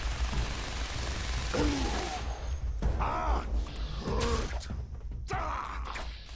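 Rapid gunfire in Fallout 76, bursts of loud shots mixed with groaning creature sounds, the shots coming in clusters over several seconds.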